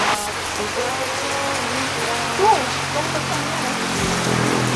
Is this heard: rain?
yes